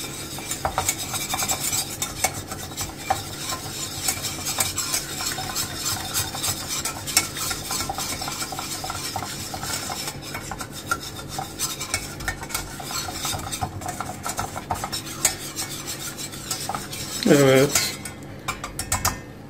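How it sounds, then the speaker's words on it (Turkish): Spoon scrapes and clinks steadily in a pan as cheese sauce for giant turkey legs gets stirred, with a soft sizzle beneath, then a louder splash and bubbling burst near the end. "Karıştırmaya devam."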